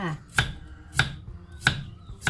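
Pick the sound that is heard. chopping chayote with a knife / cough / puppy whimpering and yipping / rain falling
chopping chayote with a knife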